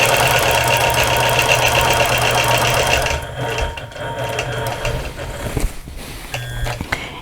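A quilting machine stitching in stitch-regulated mode, steady fast mechanical whirring and ticking up close that eases and becomes uneven partway through, with no talk.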